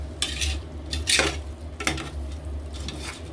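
Basmati rice and masala are stirred in a pot, with repeated scraping strokes of a spoon against metal in an irregular rhythm over a low steady hum, close and moderately loud.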